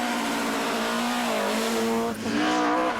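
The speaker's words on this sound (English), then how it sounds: "Manus Kelly and Donald Barrett couldn't resist the lure of driving their home stages flat out in a Mark II" A Mark II Escort rally car driven flat out on a Donegal rally stage, its engine howling loud and close at high revs with a brief lift and gear change before climbing again.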